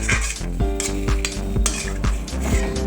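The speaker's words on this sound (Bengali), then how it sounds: "ভেজে জল দিয়ে দিচ্ছি" Mustard paste frying in a pan as water is added, a steady loud sizzle with repeated metallic spoon stirs and taps against the pot, close up and without speech.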